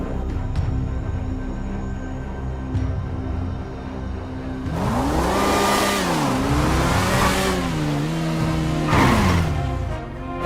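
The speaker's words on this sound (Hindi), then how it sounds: "अरे चुपचाप से बाइक लगा देता हूँ यार" Motorbike engine revving in a home setting, rising and falling in a few loud throttle swells over a steady running drone, close by and alone without talk.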